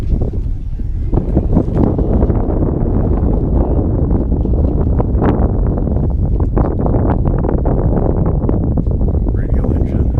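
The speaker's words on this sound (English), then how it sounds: "Radial engine, a lot of noise." A Boeing Stearman biplane's radial engine drones with a loud, continuous low rumble close by, with gusty wind buffeting the microphone throughout.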